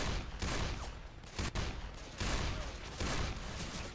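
Gunfire in Left 4 Dead 2, dense loud bursts of shots with brief gaps, heavy and continuous across the whole span with no talking.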